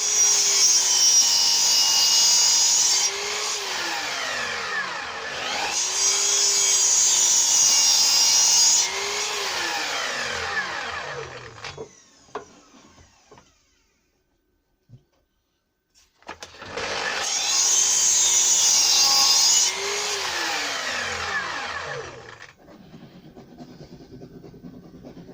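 A power saw cuts pieces of wood for the framework of a hollow-core shelf unit in three loud whining bursts, separated by short pauses and followed by a silent gap.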